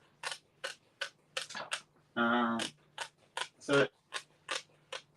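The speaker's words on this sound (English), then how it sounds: "And then I'm going to cut in on an angle" Scissors cutting paper at an angle at a scrapbooking table, a rapid run of crisp close snips in an uneven rhythm, with brief spoken words between cuts.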